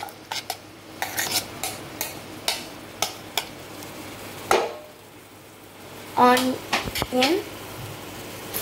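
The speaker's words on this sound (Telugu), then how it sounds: "సో గైస్ కొంచెం ఫ్రై అవ్వాలి ఆనియన్ అయితే." Onions fry in oil in a pot while a spoon stirs them. Irregular scraping clinks and soft sizzle run throughout, and a voice speaks briefly near the end.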